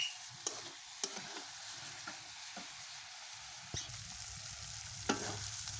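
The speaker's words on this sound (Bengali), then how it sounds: "ভালো মতন এখন নাড়াচাড়া করে কষে নিব, ঢাকা চাপা দেবো" Chicken is stir-fried in oil in a pan, giving a soft continuous sizzle broken by a handful of sharp scraping clicks from stirring, fairly quiet and with no talking.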